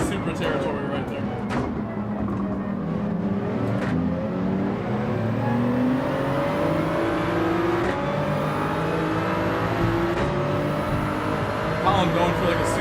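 A Toyota Supra Gr.4 race car engine in Gran Turismo 7, on the Grand Valley reverse circuit, drones steadily and loudly throughout, rising and falling in pitch through shifts, with a voice talking over it.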